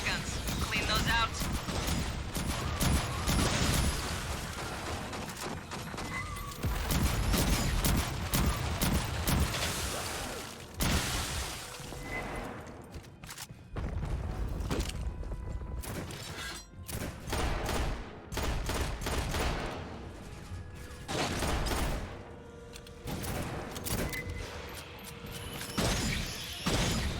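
Sentry guns fire in the sci-fi shooter Aliens Fireteam Elite, dense bursts of automatic gunfire and impacts that run almost without a break, with voices speaking over the battle.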